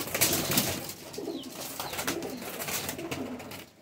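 Kalpoti pigeons kept in a loft give steady, low rolling coos close by, several birds overlapping at a moderate level with faint rustling and no talking.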